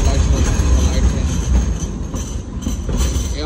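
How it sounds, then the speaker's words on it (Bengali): A light rail train in Sydney rumbles past up close, a loud, steady roar of wheels on track with faint high squeals running throughout. "এটা লাইট ট্রেন বা লাইট রেল বলে আর কি।"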